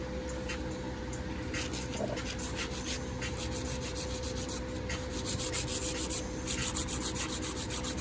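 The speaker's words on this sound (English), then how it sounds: "I like to keep my drill, my E-file, 9 times out of 10 it's in a low or medium low speed" An electric nail drill files acrylic nails with a steady grinding whir, running at low to medium-low speed. It stays close and continuous with a slightly pulsing texture and no talk.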